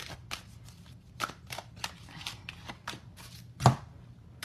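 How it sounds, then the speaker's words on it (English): Oracle cards are shuffled by hand in a series of quick, crisp, fairly close riffling slaps at an irregular rhythm, with no talking. "so everything's shuffled."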